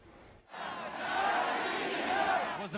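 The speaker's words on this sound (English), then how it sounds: "In Moscow, the crowds chanted "Russia, Russia,"" Large crowd in Moscow chanting 'Russia' in unison, a swelling roar of many voices that rises after a brief pause and holds steady for about two seconds, heard from a moderate distance.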